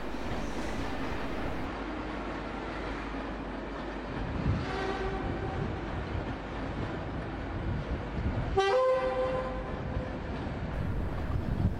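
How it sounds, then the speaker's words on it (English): Class 86 electric locomotive 86259 leaves London Euston in the 1980s on the 17:10 to Wolverhampton, with a steady rumble under two horn blasts, the second louder and sharper. "86259 Peter Pan, departs with 1G35, the 1710 service to Wolverhampton"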